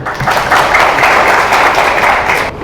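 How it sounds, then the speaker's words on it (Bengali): Audience at a Sathibari Premier League team owners' auction event breaks into dense, steady applause, many hands clapping loudly and evenly before tapering off near the end. "ওর জন্য হাততালি দেয়"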